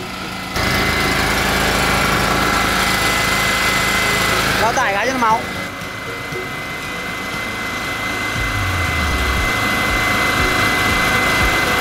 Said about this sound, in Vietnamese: máy phát điện chạy nổ như máy cưa.